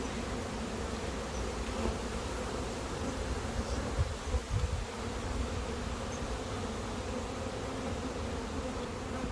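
Honey bees hum in a dense, steady drone at the front of a busy hive during orientation flights, a continuous close buzz with no voices.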